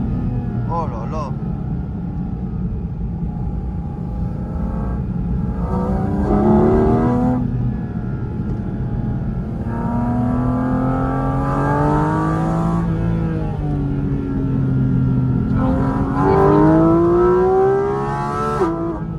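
Porsche 911 GT3 RS engine revving and pulling hard through several gears, each rise in pitch followed by a shift, loud from inside the cabin with excited voices talking over it.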